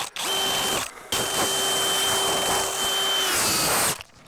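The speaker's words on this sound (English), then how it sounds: "those self-feed auger drill bits don't do anything on that. They just mush it up. And so you really got to force your way in." Drill fitted with a self-feed auger bit bores through a rim joist behind aspenite chipboard sheathing, running loud and steady for about three seconds with a clear whine, cutting out briefly near the start before resuming.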